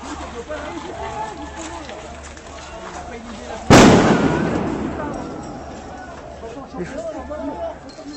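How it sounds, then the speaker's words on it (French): A single sharp firecracker bang bursts out loud at a street protest, its noisy crash trailing off over a few seconds amid a murmuring crowd and voices. "On entend des fois des bruits de pétards."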